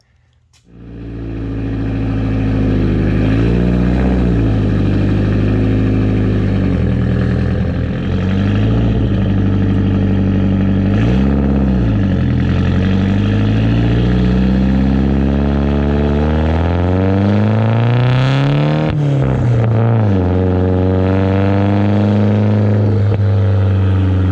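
A Datsun 620 pickup with a swapped Silvia engine on a street drive, its exhaust droning loudly and close with repeated rising and falling revs through gear changes, steady and without talking.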